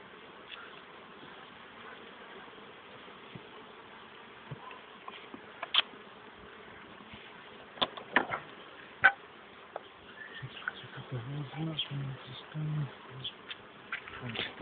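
A bee buzzes close by during a honey harvest at the hives, a faint steady drone with scattered sharp taps and clicks that grows busier toward the end.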